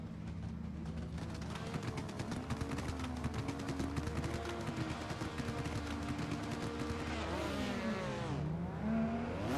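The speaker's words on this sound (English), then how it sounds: "Brandon in the lead lane in that Ferrari, being chased down by Daniel Andrzejewicz in the BMW." A Ferrari and a BMW battle in tandem at a drift event, engines screaming at high revs with rapid popping bangs from the exhausts, loud and sustained, pitch sweeping as the cars slide past.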